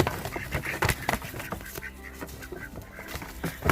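A group of ducks on a permaculture smallholding quack loudly and continuously, overlapping calls in a busy, close chorus with no speech.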